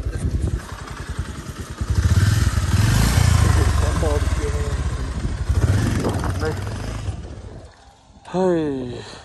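A Bullet motorcycle engine thumps and roars close by, revving up and easing off, with people talking over it and a short high whine near the end.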